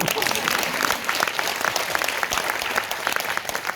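Audience at a Korean lecture by author Oh Tae-min breaks into applause, a dense, steady wash of many hands clapping at once, close and fairly loud for the whole stretch.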